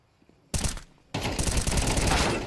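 AK rifle fire in Counter-Strike 2 on the Inferno map, a short loud burst followed after a brief pause by sustained rapid automatic shots, close and harsh.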